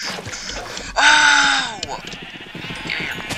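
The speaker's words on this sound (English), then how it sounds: "can I hit a sheep?" A Minecraft sheep lets out one loud, wavering bleat near the listener, with game sounds and voices around it.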